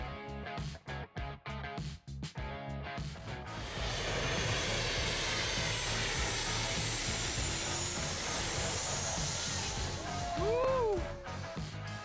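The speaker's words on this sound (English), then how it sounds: "planes landing fly a few meters above the heads of vacationers" A low-flying airliner roars in on landing approach over Maho Beach on St. Martin, building from a distant rumble to a loud, sustained jet roar after a few seconds of beach clatter and rubbing sounds.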